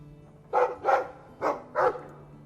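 A dog barks four times in two close pairs in the video game Dragon Age 2, loud and near over a low steady hum, with no talk.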